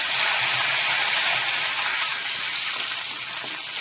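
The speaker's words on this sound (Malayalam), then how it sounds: "എണ്ണ ചൂടായിട്ടുണ്ട് നമുക്ക് കടുക് ഇട്ടിട്ടുണ്ട് പിന്നെ നമ്മൾ ചുവന്ന മുളകും അതുപോലെ തന്നെ അരവേപ്പിലയും അരവേപ്പിലയും കൂടിയിട്ട് വഴറ്റിയെടുക്കുകയാണ്" Mustard seeds, red chillies and curry leaves frying in hot oil for beetroot pachadi make a loud, steady sizzle and hiss up close, easing slightly toward the end with no talking.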